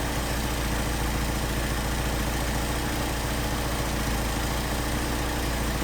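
A Mercedes 190SL engine idles on twin Solex 44PHH carburetors, a steady, loud, close rumble with an even low throb that holds unchanged throughout, with no voices.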